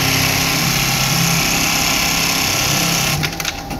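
A velcro sewing machine runs steadily with a dense, continuous mechanical whir and rapid needle chatter, loud and close, with a few sharper clatters near the end.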